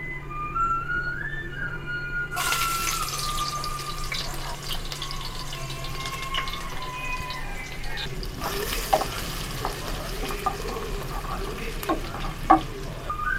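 Whole spices such as black pepper, cloves, cardamom, cinnamon and bay leaf frying in hot oil, a steady crackling sizzle that surges louder as each addition hits the pan, with occasional pops and stirring clatter.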